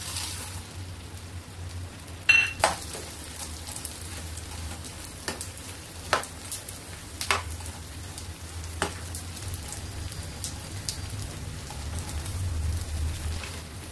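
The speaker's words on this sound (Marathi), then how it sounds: "तूप टाकूया, डिंक तळून घेऊया" Edible gum frying in ghee gives off a steady soft sizzle, with occasional sharp pops and ticks over a continuous bubbling hiss, close and moderately quiet, with no talking.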